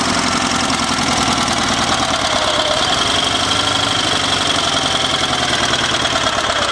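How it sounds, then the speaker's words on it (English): A Sears SS/16 twin-cylinder garden tractor engine idles with a rod knock, a loud, steady close-up running drone with a faint rhythmic knocking under it and no talk. "So there's that knock."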